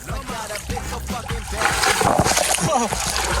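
Splashing at Unisan Beach as a person jumps into the water, with choppy sloshing that swells louder midway while people talk over it.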